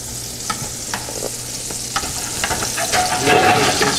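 Butter melts and sizzles in a pan on the stove while mac and cheese is being made, a steady close frying hiss with scattered crackles and pops, broken by occasional stirring scrapes.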